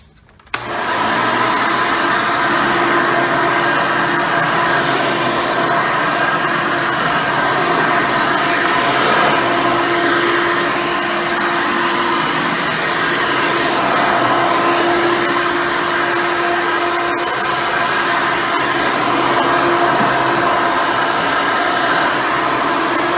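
A Hoover Elite 350 vacuum cleaner with a high-performance motor switches on and runs, a loud, steady roar with a constant whine that holds for over twenty seconds with no talking.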